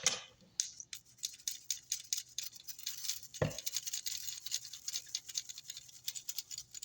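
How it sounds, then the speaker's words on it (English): A brush scrubs a paint spray gun crusted with epoxy, worked over with lacquer thinner; quick, rhythmic, close-up bristle strokes repeat throughout, with one duller knock near the middle. "Letting that lacquer thinner break it down and continue to scrub."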